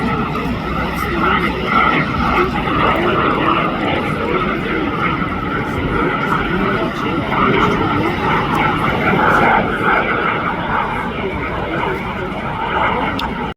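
A microjet aircraft drones continuously as it flies past at an airshow, a loud steady rushing roar with faint voices mixed in underneath.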